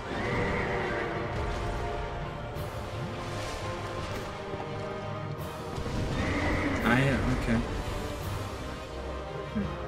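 Horse enemy in Dark Souls II: Scholar of the First Sin whinnying loudly and lunging to bite amid game combat noise, with a player talking over much of it.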